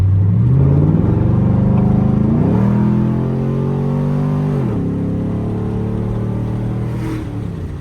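Chevrolet Camaro SS V8 engine driving in sport mode at night, heard from inside the car: a loud, steady deep drone that rises in pitch through the gears, with dips at each shift before climbing again.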